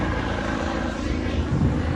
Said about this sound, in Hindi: हेलीकॉप्टर भाई ऐसा है कि 10 मिनट में एक हेलीकॉप्टर आएगा ही आएगा इधर, बिकॉज यहाँ पे हेलीपैड है ना